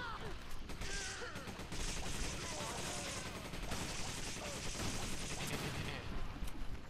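Rapid machine gun fire rattles continuously in Resident Evil 5, dense bursts of game gunshots with voices talking over the action.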